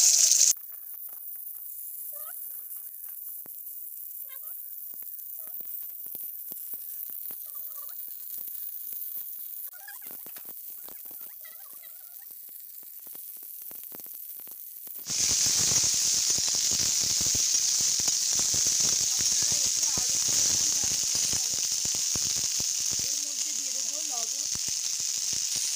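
Cut mixed vegetables and potato go into hot oil with bay leaf, and a faint crackle jumps to a loud, steady, close hissing sizzle that keeps going to the end.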